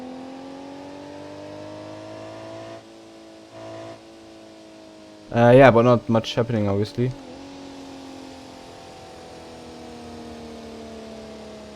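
A car in the BeamNG.drive driving game gives off a steady, tonal transmission gear whine that rises slowly in pitch, interrupted midway by a brief louder revving burst, with someone talking over it.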